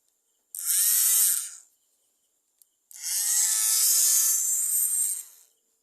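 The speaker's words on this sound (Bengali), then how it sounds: "এই কাটার মেশিন দিয়ে আমরা এখন কচুর গাছ কাটবো। এই কেমন কাটে ঘুরতেছে।" A homemade rechargeable cutting machine built on a 775 motor whines at high speed in two bursts, a short one and then a longer run of about two and a half seconds, each spinning up and winding down, loud and close, with silence between.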